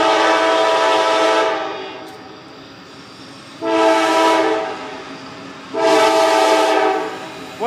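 A CSX freight train passes slowly, its horn blowing in three long, loud blasts over the continuous rumble of the moving rail cars.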